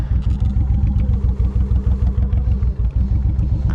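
A motorcycle engine runs loud and close with a steady, rapid low throb and slight mechanical clatter, as the bike is ridden slowly over rough, soft dirt ground.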